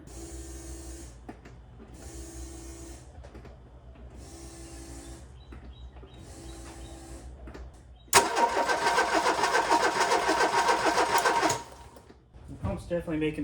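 An abandoned car with a newly replaced fuel pump cranks without firing, in four short, evenly spaced starter bursts followed by a longer, louder, harsher grinding run that cuts off abruptly.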